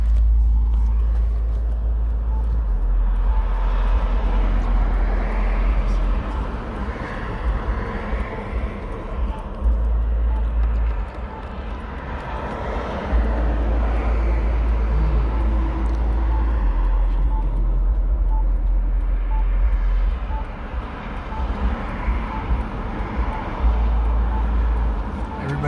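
A 2007 Hyundai Sonata V6 cruises along a city road, a steady low engine drone and road rumble from inside the cabin, with people talking over it throughout.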